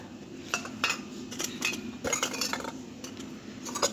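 Small toy cooking pots, lids, a tiny pitcher, glass and bowl clink and rattle against each other up close in quick, irregular metallic taps and chinks as they are handled.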